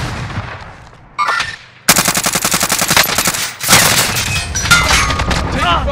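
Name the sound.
gunfire in the video game Call of Duty Warzone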